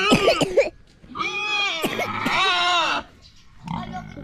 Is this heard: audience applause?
no